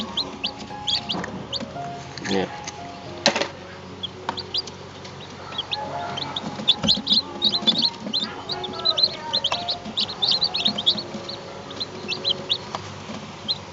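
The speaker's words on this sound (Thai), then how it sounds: "นี่ครับลูกไก่ นี่ฟักเมื่อคืนนี้" Many high, thin peeps and chirps from newly hatched chicks in an incubator, constant and overlapping, with a brief spoken word partway through.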